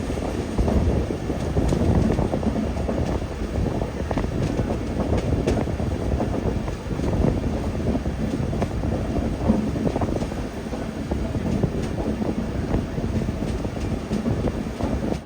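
A Mail express sleeper train rolls into Kottayam railway station with a continuous loud rumble and clatter of wagons, mixed with steady wind noise across the microphone.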